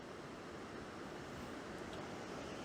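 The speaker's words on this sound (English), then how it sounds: "there's a weir, I don't know whether you can hear it" Water pours steadily over a weir on the River Derwent, a constant broadband rush that is faint and distant under light wind, with no talk.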